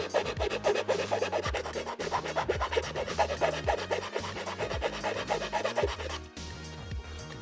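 A big square file rasping against a plastic Scout Trooper helmet part in rapid, even back-and-forth strokes, close and fairly quiet, before the strokes soften and stop near the end.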